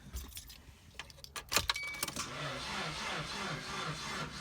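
Keys jangle briefly, then a steady, rough cranking noise follows as the starter tries to turn over a 1995 Nissan Hardbody truck's KA24E engine, close and fairly loud with no catch.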